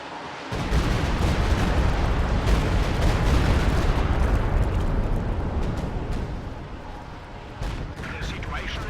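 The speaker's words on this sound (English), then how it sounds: "Stuka barrage coming down here in the middle" Stuka dive-bomber barrage in a WWII strategy video game, sustained heavy rumbling explosions and blasts overlapping continuously for several seconds, loud and dense, with a voice talking over them.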